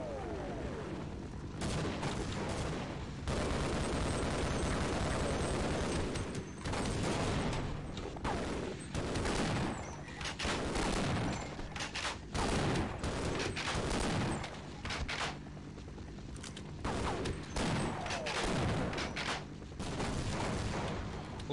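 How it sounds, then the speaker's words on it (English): Repeated grenade blasts in the video game Half-Life: loud booms and crackling bursts follow one another in an irregular, almost continuous barrage for about twenty seconds, with brief dips between them. "how many grenades you guys got?"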